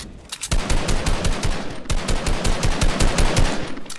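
Heavy assault rifle fire in Fortnite, a loud close burst of rapid, evenly spaced shots rattling on for several seconds with no talk.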